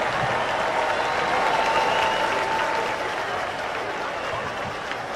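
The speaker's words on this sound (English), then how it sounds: "Let's give Mr. Greenwood a Golden Lion round of applause as he accepts his" A stadium crowd at a college football game claps in a sustained, dense round of applause, strong at first and easing slightly toward the end, heard from a distance without talk.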